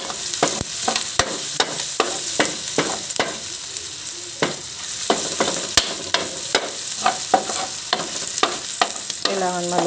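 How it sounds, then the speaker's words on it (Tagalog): Chopped garlic and onion sizzling steadily in a hot pan, with a loud continuous fry hiss punctuated by regular scraping stirs of a utensil throughout, close up and without talk. "Kailangan maluto ng maayos yung mga ano natin, aromatic, mga bawang, sibuyas"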